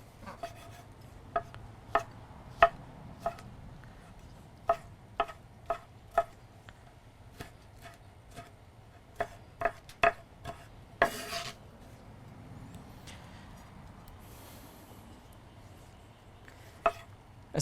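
A knife cuts through tomatoes on a board for crab ceviche, giving crisp, irregular chopping knocks close by, then a brief rustle and a few more cuts, with no speech.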